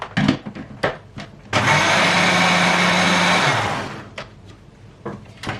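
A kitchen blender whirs loudly for about two and a half seconds, steady and close, then winds down, with clattering kitchen knocks before and after.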